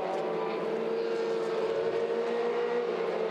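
Formula 4 race cars circle a Southeast Asian circuit during a 2017 championship race, their engines merging into a steady, sustained high-pitched drone that holds without a break from start to finish.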